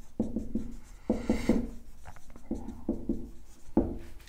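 Marker or chalk writing on a classroom board during a physics lecture, heard as bursts of scratchy strokes in several clusters with short pauses between them.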